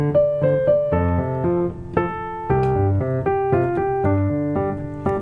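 A piano plays the third line of a piece, with even, repeated chords and left-hand bass notes stepping at a steady moderate pace, clear and close with no talk.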